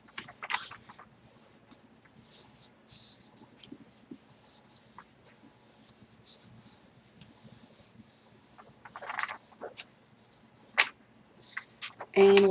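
Printer paper is rubbed and smoothed over cardstock laid on a rubber stamp, giving soft, close, irregular swishing and scraping strokes in short bursts with quiet gaps between them.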